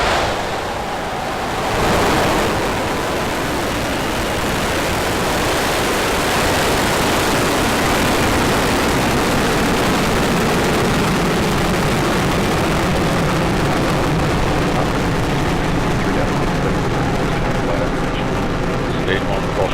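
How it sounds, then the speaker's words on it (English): SpaceX Falcon 9 engines roar at liftoff for the CRS-18 launch, a loud, broad, rumbling blast that swells after a brief start and holds steady and thunderous throughout. "Ignition."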